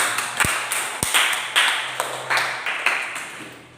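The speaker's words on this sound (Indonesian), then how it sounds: "tepuk tangan buat Mbak Amel dan Mas Wildan." A handful of sharp, separate claps ring out at a steady pace in a room, more like a few people clapping than full applause.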